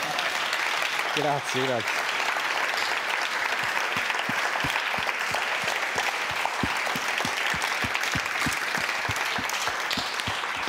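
Steady audience applause filling a talk hall, dense and continuous for several seconds, while someone speaks briefly over it near the start.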